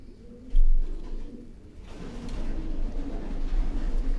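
Sialkoti pigeons coo in a low, soft, repeated murmur under a steady background rumble, with a louder thump early on and continuous muffled ambient noise throughout.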